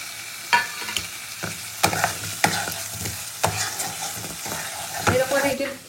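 Fried potatoes tossed into a pan of well-cooked spice paste, sizzling steadily while a spatula scrapes and stirs in sharp, irregular strokes, close and fairly loud with no talking.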